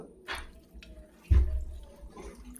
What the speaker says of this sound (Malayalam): ബാക്കി കുറച്ച് വെള്ളം കൂടെ ഒഴിച്ചു കൊടുക്കുക